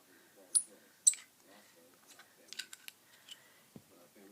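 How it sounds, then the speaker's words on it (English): A tactical pen is screwed back together by hand: a handful of small, sharp plastic-and-metal clicks and light thread scrapes, close and quiet, spread irregularly over a few seconds. "And then you screw it back together."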